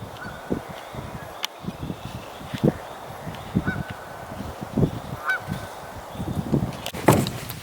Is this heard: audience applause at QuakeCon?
no